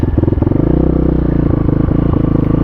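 A Chinese dual-sport dirt bike's engine runs close and loud with a steady, throbbing mechanical pulse and small shifts in revs, with no voices over it.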